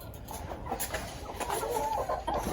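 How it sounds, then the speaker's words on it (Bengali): Hill chickens clucking nearby in a steady, continuous chatter of overlapping calls at moderate loudness, with no speech. "এটা হচ্ছে আমাদের পাহাড়ি মুরগি।"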